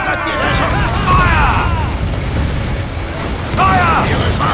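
Ship cannon fire in the pirate game Assassin's Creed IV Black Flag, deep booming blasts rumbling under loud shouted commands from the crew.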